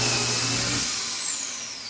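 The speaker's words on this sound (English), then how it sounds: "it's gonna force that foot down on top of your workpiece and hold that in place while you drill your hole" A Kreg DB210 Foreman pocket-hole machine drills a pocket hole into a wood workpiece with a steady, loud motor whine. The low hum cuts out partway through while a high-pitched spin-down lingers.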